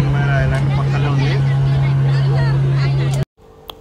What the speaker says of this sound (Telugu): ఫ్రెండ్స్ మనమైతే సెకండ్ బోట్లో ఎక్కినాం